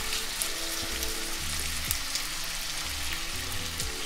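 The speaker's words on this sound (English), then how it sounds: "You hear that sizzle?" Diced golden potatoes sizzle steadily in hot grease, a dense, even frying hiss with faint scattered pops and an occasional stir, alone without talk.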